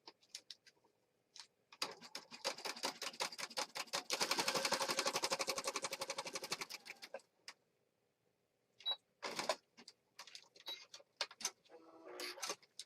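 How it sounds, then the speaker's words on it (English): A sewing machine runs a zigzag stitch over a fabric edge, rapid clattering bursts in several runs with brief pauses between, close and fairly loud, with no talk over it. "I got a zigzag stitch. I'm going to go right over this edge."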